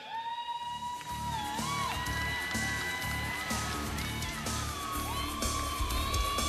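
Crowd cheering and whooping at a STIHL Timbersports U.S. Men's Championship hot saw event, a continuous lively roar with shouts and whistles throughout.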